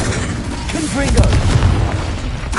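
A Confringo blasting spell explodes in Hogwarts Legacy, a short, loud booming burst over rumbling low noise in combat, with a voice speaking briefly over it.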